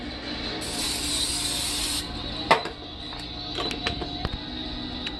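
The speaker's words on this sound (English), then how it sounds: "I'm going to spray my non-stick vegetable oil spray." Short hiss of non-stick vegetable oil spray onto a pan on a stovetop, about a second and a half long, followed by a few faint clicks and knocks.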